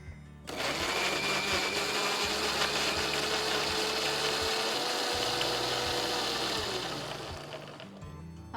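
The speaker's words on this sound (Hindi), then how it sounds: "सबसे पहले हम टमाटर को काट के इसे मिक्सी में ग्राइंड करेंगे।" A mixer grinder blends chopped tomatoes in a loud, steady, high-pitched whir that runs continuously for several seconds before winding down, close by with no talk over it.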